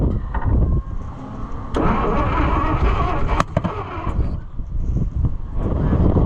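Oliver 525 combine engine with wrong firing order or stuck valves, cranking and popping in rough bursts: loud sputtering spells broken by sharp bangs and short drops, uneven and close.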